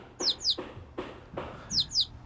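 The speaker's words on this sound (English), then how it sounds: "Oh, that's a big bird though." A big bird in the Chibi-Robo video game chirps in pairs of bright, sharp tweets, two at the start and two at the end, over soft low game noises and no talking.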